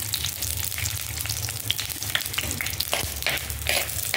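Small onions sizzle in sesame oil as the base for a crab curry, a loud, steady crackle of frying with scattered stirring scrapes throughout.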